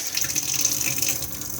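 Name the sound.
water running from caravan tap via water pump, Coachman Pastiche 545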